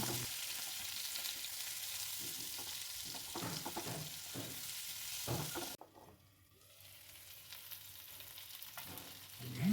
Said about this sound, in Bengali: কিছুক্ষণের জন্য আবার ঢাকা দিয়ে এটাকে ভাজার জন্য রেখে দেব